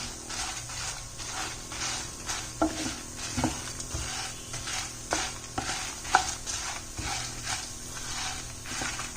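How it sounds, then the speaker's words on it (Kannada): Coriander, cumin and fenugreek seeds frying in a pan with a constant sizzle, broken by repeated scraping stirs and light clinks of a spoon at an irregular rhythm, close and moderately loud. "ಎಲ್ಲ ಸ್ಪೈಸಸ್ನ ಹಾಕ್ಕೊಂಡು ಚೆನ್ನಾಗಿ ಫ್ರೈ ಮಾಡ್ಕೊಳ್ತಾ ಇದ್ದೀನಿ"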